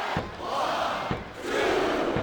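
Wrestling arena crowd during a triple-threat match, a large audience chanting in rhythmic swelling waves with dull thumps beneath, heard at a distance and fairly loud.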